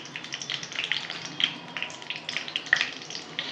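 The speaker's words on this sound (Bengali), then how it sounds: "তেজপাতা, একটা শুকনো লঙ্কা, ফোড়নটা একটু ভেজে নেব" Bay leaf and a dried red chilli fry in oil as a tempering, giving a soft, close sputtering sizzle with small pops and bubbling crackles that flutter unevenly throughout.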